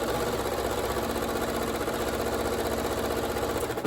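A sewing machine stitching pieced fabric pairs together, running steadily and continuously at close range with a constant mechanical hum and rapid needle rhythm, stopping at the very end.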